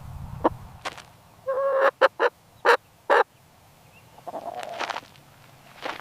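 A chicken gives a run of short, clucking calls: a few scattered notes, then a tight cluster of four or five loud bursts, followed by softer clucks near the end, with no talking.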